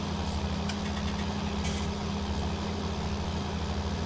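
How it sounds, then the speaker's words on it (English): An old John Deere tractor engine in Farming Simulator 19 idles with a steady low, throbbing drone, close and even throughout, a couple of faint clicks near the start and no talk. "Got a better sounding tractor now."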